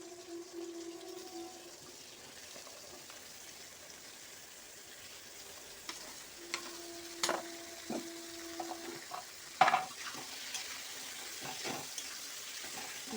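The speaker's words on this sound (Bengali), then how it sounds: "এরপর আমি দেখো লাউ কাটাগুলো দিয়ে দিচ্ছি।" Quiet sizzle of bottle gourd pieces frying in a pan for a prawn and gourd dish, with scattered clicks and scrapes of stirring growing more frequent toward the end.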